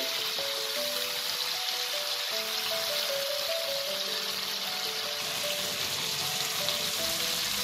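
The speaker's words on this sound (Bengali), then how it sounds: "পনিরটাকে আমাকে হালকা ব্রাউন করে একটু ভেজে নিতে হবে" Paneer cubes frying in a pan until lightly browned give off a steady, dense crackle and hiss that runs unbroken throughout, close and moderately loud, with faint tonal hum underneath and no talking.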